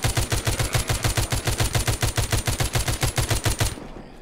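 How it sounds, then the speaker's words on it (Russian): Rapid automatic gunfire from a zombie-shooter game, The Walking Zombie 2: a steady stream of close, punchy shots at an even fast rhythm for nearly four seconds, then cutting off abruptly. "Вот это я на вас трачу патронов"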